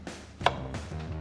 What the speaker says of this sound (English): I'm just going to half the apple, whack it straight in there